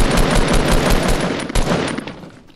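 Rapid automatic gunfire in the Fortnite video game, a loud, dense stream of shots that rattles continuously before tapering off at the end.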